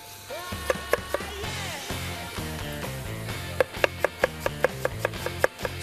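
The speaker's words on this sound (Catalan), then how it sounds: "Anem a tallar la ceba." Knife chopping onion on a cutting board, a run of sharp repeated taps, irregular at first and then faster and steadier, close and clear over soft background music.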